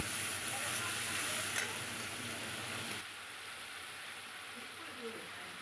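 Turmeric and salt sautéing with spices in a pan for a shol fish curry, giving a steady, close sizzle with stirring scrapes that drops to a quieter simmer partway through.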